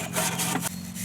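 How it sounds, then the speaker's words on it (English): A wire brush scrubs oily, grimy distributor screws in a short burst of close, raspy strokes, about three quick scrapes in a row. "This is just a wire brush."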